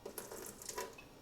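Tap water runs briefly and faintly into a container while oatmeal is being prepared, a soft uneven splashing lasting about a second.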